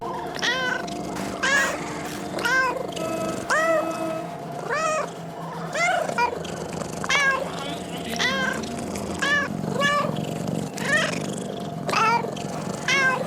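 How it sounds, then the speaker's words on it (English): A cat in a video game meows repeatedly in short, evenly spaced calls, about a dozen over steady background tones, clear and close. "a badass cat that sometimes meows"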